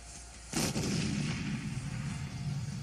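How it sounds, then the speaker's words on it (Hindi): A sudden heavy blast from Indian army fire on a Pakistani army post erupts and rolls on as a sustained, loud rumble for a couple of seconds. "पोस्ट पर ब्लास्ट की ये तस्वीरें हिंदुस्तानी आर्मी के गुस्से का सिर्फ ट्रेलर है।"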